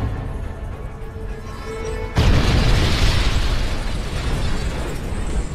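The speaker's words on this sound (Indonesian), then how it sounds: "dia langsung melemparkan bom tersebut kepada para gangster" A homemade bomb goes off in a film scene after being thrown at gangsters: a sudden loud blast that cuts in partway through, then a sustained roaring rumble of debris and noise continuing to the end.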